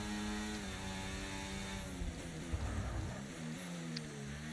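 Engine of an F1 car on a hot lap around Montreal's Canadian Grand Prix circuit, a steady high-pitched whine climbing and dropping through gear changes, loud and continuous with no voices.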